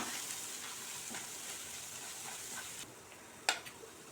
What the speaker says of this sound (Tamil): நம்ம இப்போ அரைச்சி வச்சிருந்த மசாலா சேர்த்து நல்லா பச்சை வாசனை போகிற அளவுக்கு நம்ம இதை வதக்கி விட்டுக்கலாம்